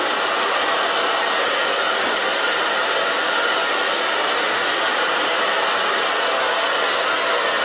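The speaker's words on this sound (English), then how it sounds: "blow dryer." A hair blow dryer runs steadily and loudly the whole time while styling a short pixie cut, a constant broadband whoosh with no other sounds.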